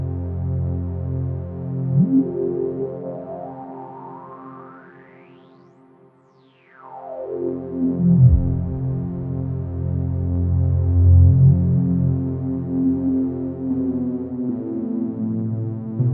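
GForce OB-1 synthesizer drone with high pass filter resonance, a resonant peak sweeping up until the low end thins almost to nothing, then sweeping back down into a thick throbbing hum that pulses on, steady and upfront with no speech.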